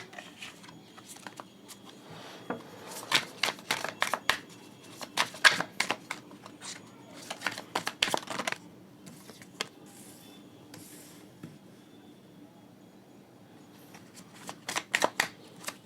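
Tarot cards shuffled by hand close up, bursts of crisp riffling and flicking clatter in several separate rounds with quieter gaps between, a faint voice now and then.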